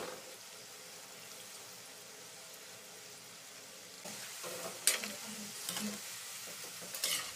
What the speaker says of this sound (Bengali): এগুলো ভাজতে কিন্তু খুব বেশি সময় লাগে না, 3 থেকে 4 মিনিট সময়ের মধ্যে এই মিষ্টিগুলো ভাজা হয়ে যায়।